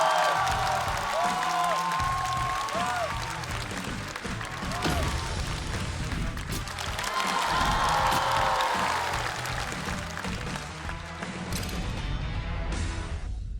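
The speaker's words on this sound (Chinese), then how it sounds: "掌声有请！" A studio audience applauds at a Chinese stand-up comedy competition show as two teams are called out. The clapping is dense and sustained for the whole stretch, with cheering and a voice or music running through it.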